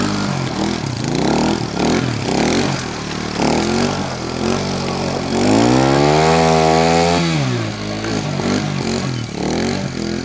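A dirt bike engine revs hard and repeatedly while riding in muddy ruts during jumping, rising and falling in pitch with one long climbing rev near the middle, loud and close throughout.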